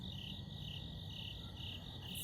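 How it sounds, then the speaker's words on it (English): Crickets chirp outdoors on a cool night at about 59 degrees, a faint, steady pulsing trill that runs continuously with no voices. "I can hear the crickets. Can you hear the crickets?"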